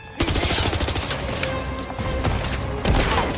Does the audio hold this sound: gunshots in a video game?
yes